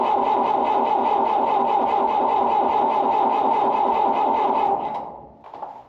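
A road grader's engine cranks on a hard start, the starter churning in a steady, rapid rhythmic whirr for about five seconds without firing, then cutting off and fading, close and loud with no talk.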